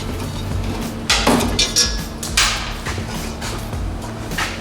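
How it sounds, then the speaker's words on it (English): Pneumatic impact wrench rattling off exhaust bolts on a Holden VE SS in a workshop, heard as a few short bursts over steady background hum. "I'll be using the rattle gun today because we're a workshop and it makes it a little bit faster for us"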